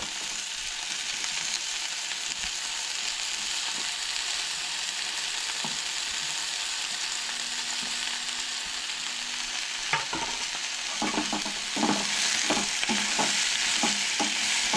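Onion and tomato fry in a pan under a steady, loud sizzle, with occasional scraping stirs that become more frequent toward the end.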